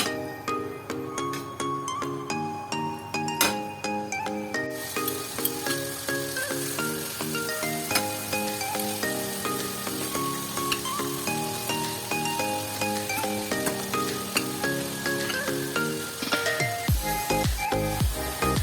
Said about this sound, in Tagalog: When the oil is already hot, we can already put the chicken. So we'll fry first the chicken, both sides.